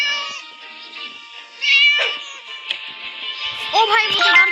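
Cat meowing in the Scary Teacher video game: several drawn-out, clear meows and wails close up, with the game's tonal background and brief bits of voice around them.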